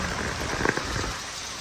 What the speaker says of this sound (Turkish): Yağmura bakar mısınız?